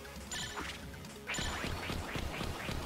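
Cartoonish duck quacks from the video game Enter the Gungeon ring out in quick succession over busy game effects, with a louder burst of repeated quacks in the second half.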